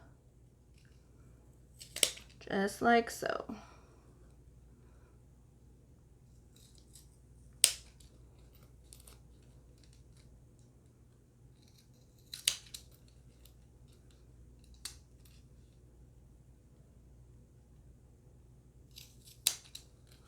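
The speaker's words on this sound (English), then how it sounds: "we're just going to cut them so that they are even with the zipper tape" Scattered sharp snips of scissors cutting zipper tabs, a quick cluster early on and then single cuts spaced seconds apart, close and crisp in a quiet room, with a brief spoken remark.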